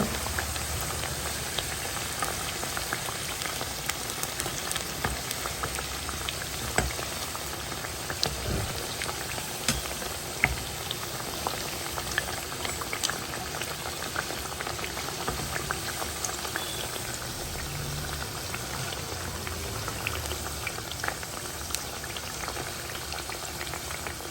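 Flatbread frying in hot oil during a rainy-season home cooking session, a steady close broadband sizzle and bubbling with no voices, a few small louder crackles and pops scattered through.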